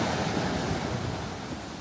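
Cold Pacific waves wash onto a California beach in a close, steady rushing roar, with light wind noise over the surf.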